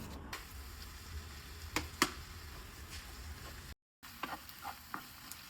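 Fish in a garlic and mushroom sauce cooks over low heat with a soft, quiet sizzle. Scattered ticks and stirring clicks break it up, and a brief silent gap falls near the end.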